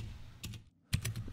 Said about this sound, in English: God, the typing is bad.